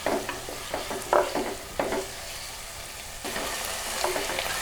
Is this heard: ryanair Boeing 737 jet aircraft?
no